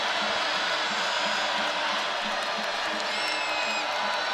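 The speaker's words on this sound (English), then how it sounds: "Crowd is energized." Crowd at a women's college basketball game between Duke and Virginia Tech, a steady wash of cheering and whoops that stays loud and dense throughout, with a few whistles rising above it.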